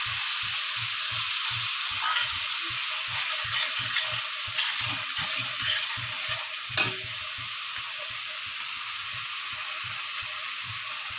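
Tomato and green chili paste fries with already fried eggs in a pan, a steady bright sizzle with a rhythmic scraping stir repeating throughout, close and uninterrupted by voices.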